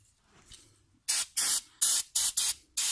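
Brake cleaner sprayed from an aerosol can onto the front brake parts of a BMW E60/E61 528i or 535i sedan: a faint rustle, then six loud, close hissing bursts in quick succession, each lasting a fraction of a second.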